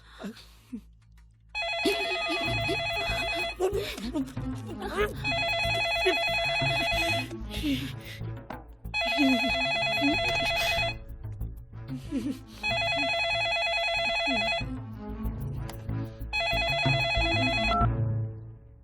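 An old-style telephone bell rings in repeated long bursts with short gaps, loud and close, over a low background hum.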